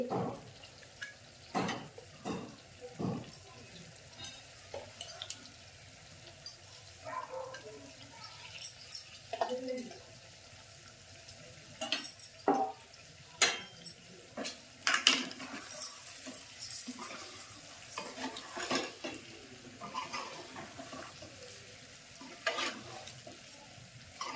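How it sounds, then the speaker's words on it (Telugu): Eggs and livers with coriander frying in a pan, a soft steady sizzle broken by scattered clinks and scrapes of a spoon stirring against the metal, close and fairly quiet. "కొత్తిమీర వేస్తున్నాయిగా ఫ్రై అయింది"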